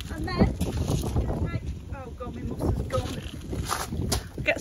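Strong wind buffets the microphone outdoors in a very windy spot, a steady roar with gusty swells, while a person talks over it.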